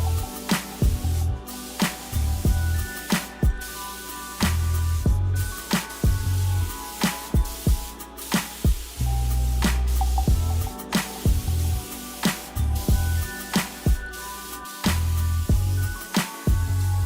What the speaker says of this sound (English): I sprayed the tabletop and the base with 3 coats of gator hide using my spray gun